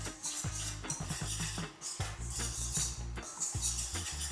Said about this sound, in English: Get those all whisked in together.